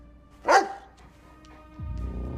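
A highly trained police dog gives one sharp, fairly loud bark close by, followed by quiet and a low rumbling background toward the end, with no talk over it.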